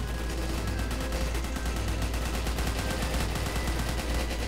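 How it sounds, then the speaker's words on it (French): Machine guns rattle nonstop in a dense, loud stream of rapid shots while players mow down zombies in the Roblox game Zombie Attack, steady for the whole stretch with no talking. "on a maîtrisé les mitraillettes cette fois? Allez, on tire à tout"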